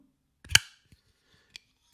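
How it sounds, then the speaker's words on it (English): A New Breed Clydesdale pocket knife flicked open with the thumb gives one sharp metallic click, followed by a couple of fainter small clicks, close and isolated in a quiet room. "it's actually fun and fidgety and has a different sound with your thumb"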